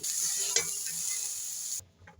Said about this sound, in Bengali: সয়াবিন শাক ভাজাটা হয়ে গেছে